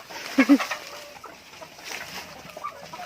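Laying hens cluck in short bursts, one sharp call standing out early, followed by scattered softer clucks and rustling nearby.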